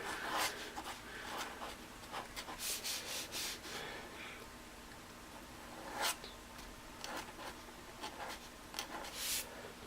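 A pen nib signs a finished portrait drawing, with soft, quiet scratching strokes in short bursts and brief pauses between them, heard up close.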